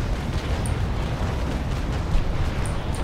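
Heavy, continuous rumbling boom of a ship's broadside cannon volley in the age-of-sail naval combat game Naval Action, loud and dense throughout with no pauses.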